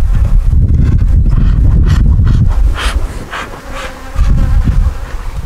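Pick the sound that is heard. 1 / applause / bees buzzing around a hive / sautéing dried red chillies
bees buzzing around a hive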